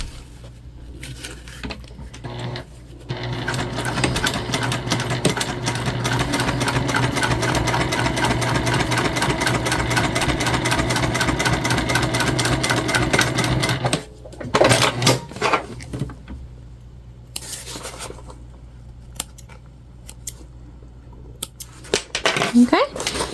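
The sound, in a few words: sewing machine stitching a fabric Kindle sleeve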